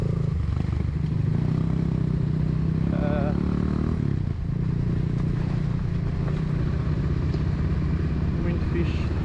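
An off-road motorcycle works along a slippery trail during a riding course, its engine droning loudly and steadily with rough clatter and scrapes, and a voice is faintly mixed in.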